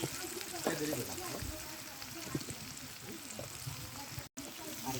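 Fish bhuna sizzles in a pan as chopped tomato goes in, a steady soft frying crackle with brief stirring clatter and a person talking over it.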